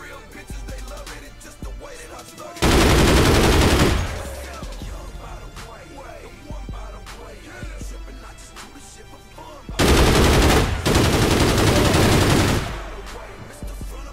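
Loud, dense automatic gunfire in the APB shooter game comes in two sustained bursts of rapid fire, with quieter game ambience in between.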